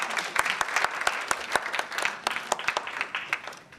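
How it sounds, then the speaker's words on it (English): An audience applauds after a performance at a live national quiz competition launch, steady clapping from a crowd that thins into scattered individual claps toward the end, fairly distant and without speech. "you deserve a round of applause."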